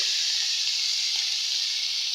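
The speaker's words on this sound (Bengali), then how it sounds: "এই যে আমি মাছটা ভাজা নিতেছি আর এই যেখানে আলু আর মাছ আমি একসাথে দিয়ে দিছি" Continuous, even sizzling of fish and potatoes frying in hot oil in a pan, a bright steady hiss without pauses.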